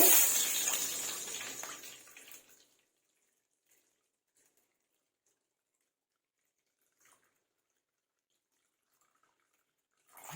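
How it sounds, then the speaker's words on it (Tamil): Water is poured into a kadai pan for bread halwa, a splashing close-up stream for about two and a half seconds that stops abruptly, followed by near silence with a few faint clinks. "இப்ப நம்ம இதே கடாயில நல்லா தண்ணி ஊற்றிட்டு"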